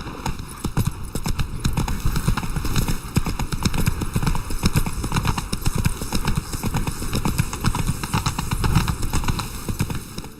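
Roach the horse trotting in The Witcher 3: a fast, loud, continuous run of close hoof clip-clops in a steady rhythm, with no voices, lasting the whole time.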